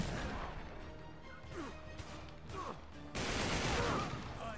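Gunfire in the Uncharted video game: loud, dense bursts of shots and impacts crowd the whole stretch, swelling into a heavier barrage near the end.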